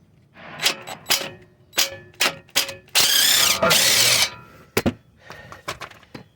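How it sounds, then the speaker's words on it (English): Ratchet loosening a 17 mm bolt on the steering knuckle of a 2014 Honda Accord, heard as a string of short clicking bursts with two longer, louder stretches of rapid ratcheting midway, close and with no talk. "Now we're going to get the last bolt off here, and this should free it up"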